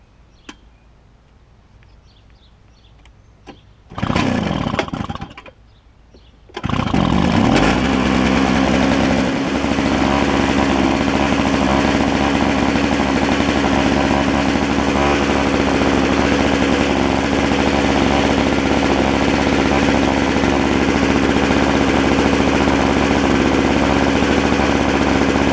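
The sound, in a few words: snowblower engine running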